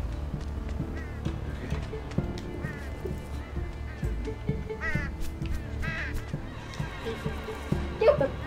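Honking birds in the video game Unravel, repeated goose-like calls over a busy game soundtrack, with a person talking excitedly over them.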